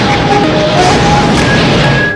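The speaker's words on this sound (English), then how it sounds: "The bomb exploded in a safe area" A bomb explodes in an open area, a loud, dense blast and rumble that fills the whole stretch and fades slightly at the end, with no voices.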